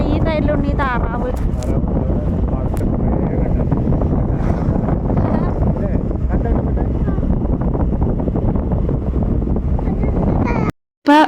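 Wind roaring over the microphone while riding a motorbike to a temple, a loud, continuous buffeting rumble with a voice faintly beneath it, cutting out briefly just before the end.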